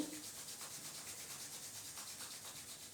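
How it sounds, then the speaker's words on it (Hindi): Two palms rubbed briskly together to warm them during a beginner yoga session, a soft continuous swishing friction up close, quiet and steady for the whole stretch. "दोनों हाथ को रब करेंगे"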